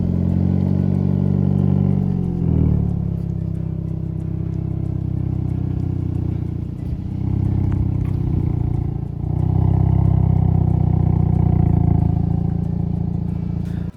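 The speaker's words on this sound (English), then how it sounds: "To give you an idea of what the i30N sounds like on idle, I got out of the car, let PA drive, and I took this video." A 2024 Hyundai i30N idles steadily with a deep, rumbling exhaust drone, recorded from outside the car and holding loud and continuous, with slight shifts in tone partway through.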